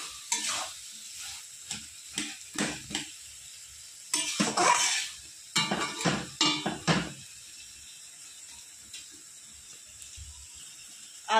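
Fish fries lightly in oil in a pan while being stirred, heard as short bursts of sizzling and scraping utensil strokes separated by quiet pauses, ending in a longer lull. No one talks.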